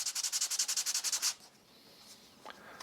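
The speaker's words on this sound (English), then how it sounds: "Here I have a piece of 220 grit sandpaper" Rapid, rhythmic back-and-forth scratching of 220-grit sandpaper on wood, about a dozen quick strokes, then a pause with a faint tap.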